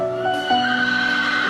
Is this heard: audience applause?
no